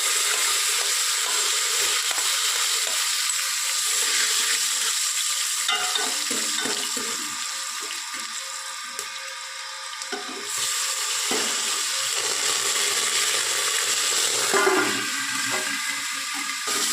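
Whole spices fry in hot oil over tempered mustard and cumin for Kutchi khari bhat, a loud continuous close sizzle with stirring scrapes throughout.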